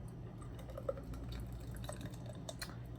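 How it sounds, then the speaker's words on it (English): Busch Light Apple beer poured into a glass, giving a quiet, steady liquid trickle with a few faint drips over a low background hum and no talking. "Let's pour it up."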